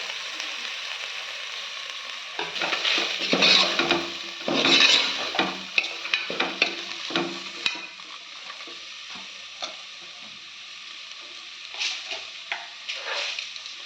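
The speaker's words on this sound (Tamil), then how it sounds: "இப்போ நம்ம வெஜிடபிள்ஸ்லாம் சேர்த்துக்கலாம். பீன்ஸ், பச்சை பட்டாணி, கேரட்." Beans, green peas and carrots frying for vegetable pulao, a soft sizzle under repeated scraping stirs of a spoon against the pan, strongest early and then quieter, close and alone.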